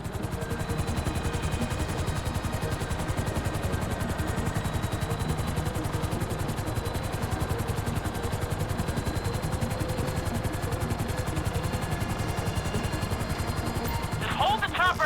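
A helicopter hovers in the video game GTA 5, its rotor thudding in a fast, steady, loud rhythm throughout, with game sound effects briefly near the end.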